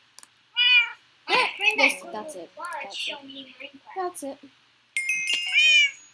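A voice imitates cat meows during Minecraft multiplayer play: a few drawn-out, whiny meow calls spaced through the clip, mixed with a child's chatter and game noise.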